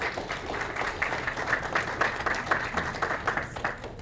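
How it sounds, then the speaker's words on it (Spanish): Audience applause at a talk on ancient Peruvian mummies, a dense steady clapping from a crowd at moderate level, sustained for several seconds with no talk over it. "Un aplauso para él."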